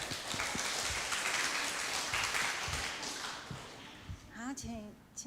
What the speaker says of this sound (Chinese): 给他们鼓掌一下。